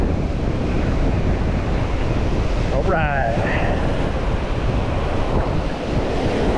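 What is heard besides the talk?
ocean waves washing up on the beach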